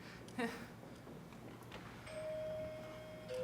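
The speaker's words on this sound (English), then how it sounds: "That was the doorbell, dear, not the telephone." A doorbell rings faintly in a community theater staging of Arsenic and Old Lace, a short chime followed by a sustained tone later, quiet amid room noise.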